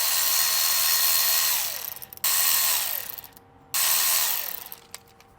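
A power steering pulley on a Ferrari 456 is worked loose with a ratchet, three long bursts of fast clicking, each winding down before a brief pause, close and distinct with small knocks between.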